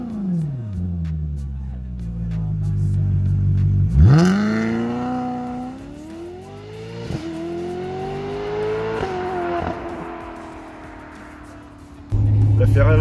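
A Ferrari California GT sports car revs and accelerates through several rising gear pulls, loud and close, with someone speaking over the engine.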